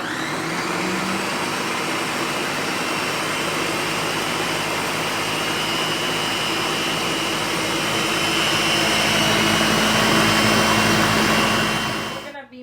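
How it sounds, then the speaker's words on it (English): Blender whirring continuously at high speed as it mixes a flan mixture with vanilla, a loud, even, close roar that cuts off abruptly at the end. "Eddie wants 1 tablespoon of vanilla. We're gonna blend it."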